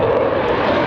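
Steady broadband roar of a modern fighter jet aircraft such as a Eurofighter Typhoon, Gripen or Rafale, loud and continuous with a strong tonal engine whine, heard alone without voices.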